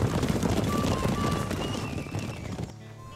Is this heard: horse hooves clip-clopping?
yes